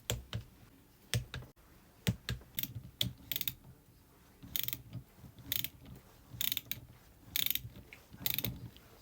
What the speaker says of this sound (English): So let's set this torque wrench to 69 foot-pounds.